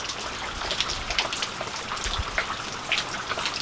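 Steady rain patters and drips on surfaces nearby, a continuous wash of droplets with occasional louder splashes.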